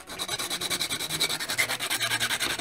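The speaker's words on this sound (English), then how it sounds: "sand off to try and get a nice flat parallel side on each" Quick back-and-forth rubbing of an OO9 model coach side on a flat sanding surface, a close, rhythmic rasping scratch repeating steadily about six strokes per second, alone.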